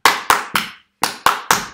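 Hands clapping a rhythm pattern: three sharp claps in quick succession, a brief pause, then three more, crisp and close with no voices.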